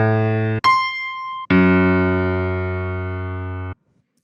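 Piano sample one-shots of various pitches played in Kontakt: three separate sustained tones in a row, each struck cleanly and ringing out, the last held longest before cutting off.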